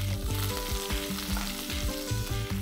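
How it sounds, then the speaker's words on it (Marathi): Chopped garlic and coriander sizzle in hot oil in a pan, a close, continuous crackling hiss broken by a rhythmic series of stirring scrapes, with no talking. "आणि यानंतर आपण थोडीशी कोथिंबीर, थोडासा लसूण परतून घेऊया."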